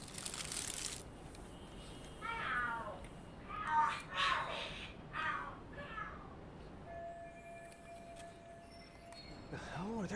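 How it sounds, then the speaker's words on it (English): Cats fighting in the Lost Judgment video game, several rising screeching yowls in bursts over a few seconds at moderate distance, with faint clinks and background ambience. "Are there cats fighting?"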